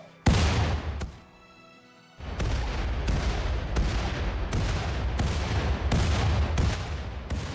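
Repeated explosive blasts from grenades blowing up a cliff face in the colony-building game RimWorld, a loud opening boom followed after a brief lull by a dense, continuous run of booming detonations and crackling debris.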